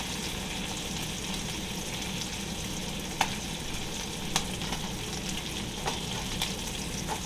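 Pork tenderloin searing in a pan, a steady close sizzle and crackle throughout with a few sharp pops and light ticks.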